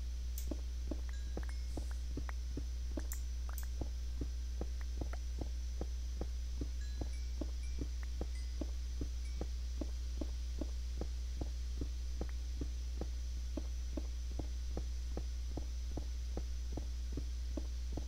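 Warden heartbeat in Minecraft, a low steady throbbing pulse repeating roughly every half second throughout, over a constant deep hum with no talking.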